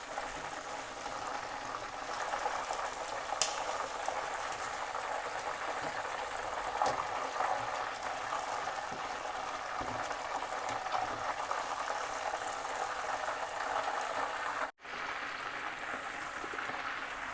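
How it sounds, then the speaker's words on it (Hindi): Chicken pieces for a chicken masala frying in a pan, giving a steady, even bubbling hiss that runs throughout, with one brief dropout near the end. "ये वाला चिकन के पीस भी हमारे अच्छी तरह फ्राई हो चुके हैं।"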